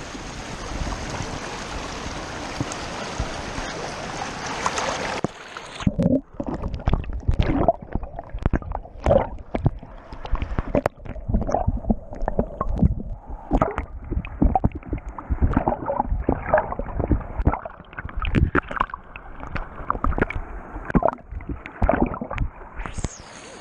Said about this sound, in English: I'm going to put you guys underwater and see